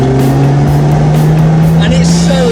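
A Lotus Exige V6 S with a paddle-shift gearbox accelerates hard, its engine note loud, close and steadily rising in pitch over a couple of seconds, with road and wind noise underneath.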